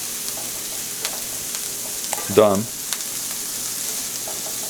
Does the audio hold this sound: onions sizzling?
yes